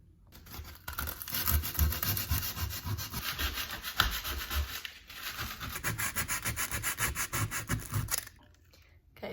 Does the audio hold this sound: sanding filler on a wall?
yes